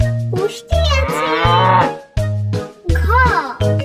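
A cow moos in loud, drawn-out calls, repeated several times over a rhythmic musical backing.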